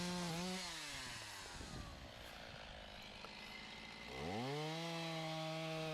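A chainsaw cuts hedge tree wood into posts and firewood outdoors, its engine loud and steady, bogging into a lower labored tone mid-cut before revving back up at the end.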